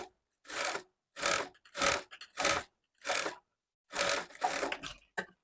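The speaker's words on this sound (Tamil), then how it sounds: "இப்போ கிளாத்தை லைனிங் பக்கமாக திருப்பிட்டு இந்த ஜாயிண்ட்டை அது மேலே தையல் போட்டுக்கலாம்" Sewing machine stitching a lined blouse joint through the lining: repeated short bursts of rapid mechanical whirring, about eight in a row with brief silent pauses between them, close and clear with no talk.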